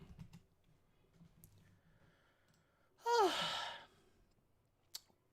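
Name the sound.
a person yawning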